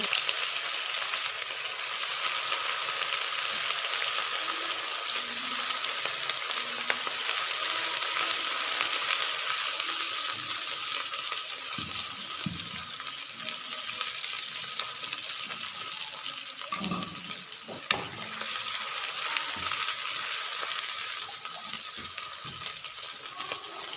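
Continuous loud sizzling of ginger garlic paste with green chili frying in hot oil, steady throughout with occasional stirring knocks and scrapes.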